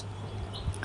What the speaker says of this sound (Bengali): ভাত খাচ্ছে